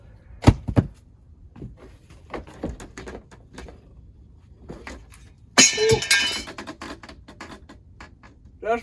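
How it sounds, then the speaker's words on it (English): Glass breaking inside an ice fishing shack in Wisconsin, a sudden bright shatter with a trail of tinkling fragments, close and loud after a few scattered knocks and bumps. "That's broken glass right next to my face."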